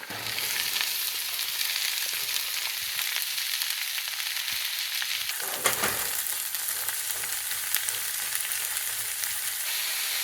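About 500 grams of finely chopped broad beans (avarakkai) sauté in a hot pan, giving a steady, close sizzle with occasional stirring scrapes throughout.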